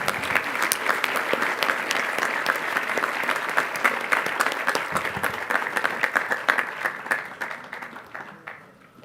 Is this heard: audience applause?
yes